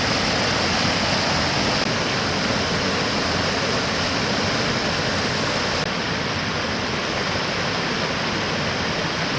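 Screw Auger Falls in Grafton, Maine, a steady, broad rush of falling water that holds an even, unbroken roar from start to finish with no voices.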